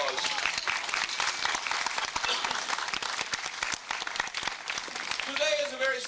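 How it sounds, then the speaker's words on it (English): An audience at a magic show breaks into steady applause, a dense wash of clapping with scattered voices and a faint voice rising near the end. "Give him a big round of applause."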